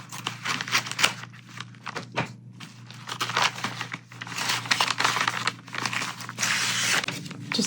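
Plastic packaging of a diamond painting kit being opened in a hotel room, with repeated crinkling and tearing rustles over several seconds, close and moderately loud, punctuated by a few soft thunks.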